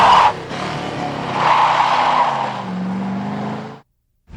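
Classic Ford car doing a tire-smoking burnout, a loud, close, sustained tire screech with engine roar lasting several seconds before cutting off abruptly.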